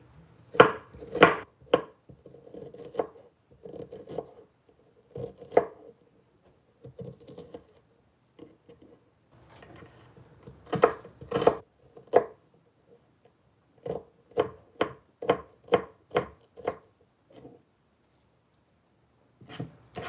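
Onions chopped with a knife on a board, heard as sharp, close knocks that come in uneven bursts, with several quick runs of strokes and short pauses between them and no talking.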